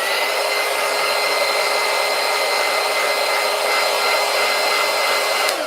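A hair dryer blowing over Prismacolor coloured pencil artwork, a loud, steady, close whooshing drone with a whining tone that runs unbroken for several seconds before cutting off abruptly at the end, with no talking.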